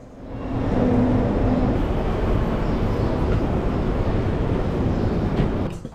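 Cabin rumble aboard a double-deck TGV Lyria high-speed train, a steady loud low drone swelling in and easing off over several seconds with no talk.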